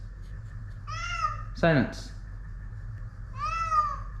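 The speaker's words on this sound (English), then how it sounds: "Cat! Cat!" Cat meowing near a stuck, abandoned Arctic Cat Puma snowmobile, two drawn-out harmonic meows a few seconds apart with someone shouting briefly between them, over a steady low background rumble.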